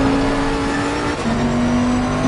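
A Bentley race car in Assetto Corsa Competizione at the Zolder circuit holds a steady loud engine drone in the cockpit, the pitch dipping briefly with a gear change before droning on.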